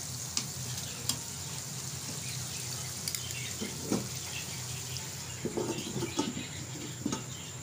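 Chicken wings fry in hot oil for KFC-style hot wings, giving a continuous bubbling sizzle. Scattered clicks and clatter from cookware and stirring sound over it at close range. No one speaks.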